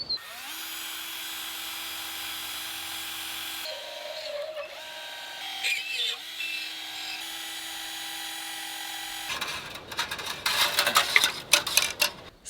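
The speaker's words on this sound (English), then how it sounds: "I think I'm going to drill through little holes for the wire to go through" A small power drill whines at a steady pitch while drilling small holes in bamboo, stopping and restarting several times, close by, ending in rougher grinding and clattering.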